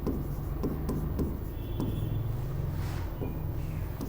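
Chalk or marker scratches on a classroom board in short repeated strokes, close and fairly quiet, with a low room hum underneath and no talking.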